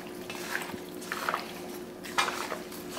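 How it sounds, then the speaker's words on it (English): A spoon stirs an oregano and lime seasoning mix in a bowl for deep-fried pork butt, giving scraping, clinking strokes against the bowl at uneven intervals, close by and without speech. "So let's just give this a spin in here."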